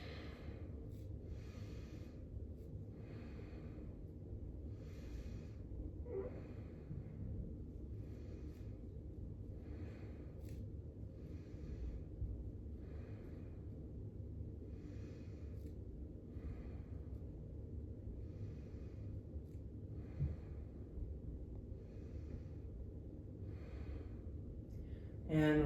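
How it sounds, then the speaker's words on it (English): Slow, deep breaths drawn in and out through the nose during gentle hatha yoga, evenly spaced airy inhales and exhales repeating for about twenty-five seconds, close and soft with no talking. "Deep breathing through the nose."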